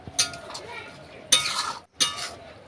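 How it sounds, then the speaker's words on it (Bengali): A spoon clinks against a pan while Bengali banana flower curry is stirred, giving three or four bright metallic scrapes and taps over a quiet background. "এখন আরো 1 মিনিট নাড়াচাড়া করে নেব"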